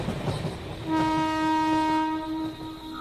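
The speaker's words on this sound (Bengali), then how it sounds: "ট্রেনটা এমনভাবে হঠাৎ থেমে গেল কেন?" A train coming to a sudden stop at night gives off a loud, sustained horn-like tone that holds steady for a couple of seconds over rumbling rail noise, with no one talking.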